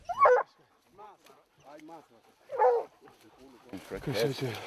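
Hunting dogs in the Eastern Cape, South Africa bark and yip excitedly at a caracal, sharp barks close by with whimpers mixed in, while people talk over them.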